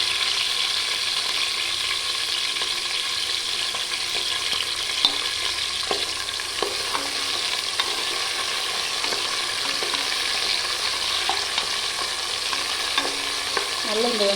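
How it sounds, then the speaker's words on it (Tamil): Onions with curry leaves and spices sauté steadily in a pan for mutton pepper gravy, a continuous close sizzle with occasional stirring scrapes and clicks throughout. "நல்லா இந்த வெங்காயம் வதங்கி வரட்டும்."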